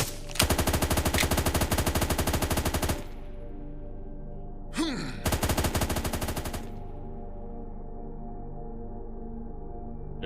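Rapid automatic gunfire from the video game iDentity Rebels, loud and close in two sustained bursts of about two and a half and one and a half seconds, separated by a brief pause and a short whooshing sweep.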